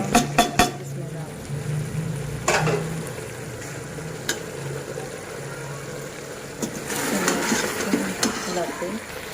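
Spices being stirred into goat trotters frying in a pan: soft sizzling with scraping and clinking of a utensil against the pan, a few sharp knocks, and a louder bubbling sizzle near the end.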